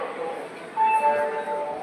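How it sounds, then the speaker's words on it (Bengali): A train at a station or under way on a Bolpur–Shantiniketan trip rumbles steadily, with a brief tonal squeal or whine rising partway through, while people talk over it. "এই হচ্ছে ট্রেন।"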